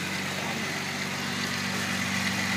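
A Volkswagen VR6 engine idles steadily nearby with a slightly lumpy running note from worn ignition wires, its serpentine belt removed, a low continuous hum with no voices.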